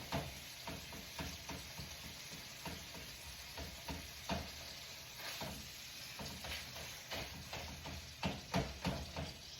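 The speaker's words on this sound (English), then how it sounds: "This beef is smelling really good as we cook it up." Ground beef sizzles and cooks in a pan with a steady, soft frying hiss and occasional stirring scrapes. No one speaks.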